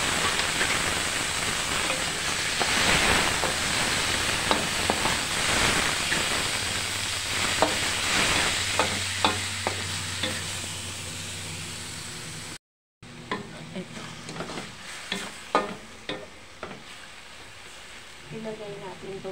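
Chicken breast frying in a pan for pancit bihon guisado gives a steady, loud sizzle with scraping stir strokes, then briefly cuts out before quieter sizzling and clinks resume; a voice talks over parts of it.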